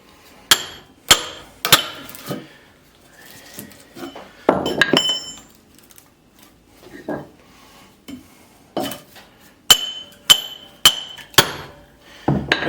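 A hammer strikes a steel firewood splitting wedge again and again, ringing metallic blows coming in quick bursts of three or four with pauses between, loud and close.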